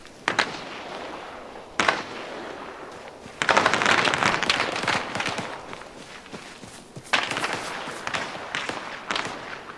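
Sniper rifle fire rings out in a military video game, several sharp cracks spaced a few seconds apart, each followed by a long rolling echo across a town setting.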